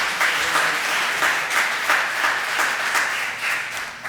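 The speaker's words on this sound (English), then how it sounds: "So if we could give a quick round of applause for our authors." A sustained round of audience applause for authors at a literary panel on memoir, steady dense clapping filling the room without speech.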